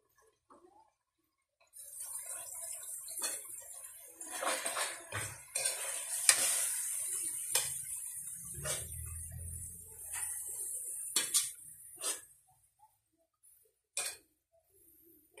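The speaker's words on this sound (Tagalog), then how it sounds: "Unti-unti nating haluin mga kaguro." Mung beans and browned meat stirred in a cooking pot, with a utensil scraping and knocking against the pot through soft splashy, clattering sounds, close by, with no talk.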